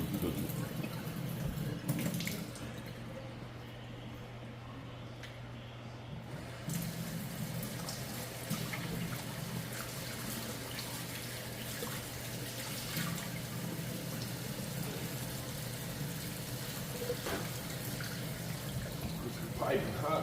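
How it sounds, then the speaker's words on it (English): Piping hot tap water runs steadily into a kitchen sink while chicken feet are washed under it, a continuous close rushing and splashing that carries on for the whole stretch without pause. "Piping hot water."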